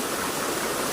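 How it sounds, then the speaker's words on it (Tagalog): A waterfall at a lagoon in Atimonan, Quezon, roaring as a loud, steady broadband rush of falling water, close by and unbroken for the whole moment, with no voices. "pero ganda ng falls, oh"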